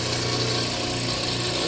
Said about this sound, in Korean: 이렇게 전기 모터를, 선을 연결해서 전기 모터로 돌리는 겁니다.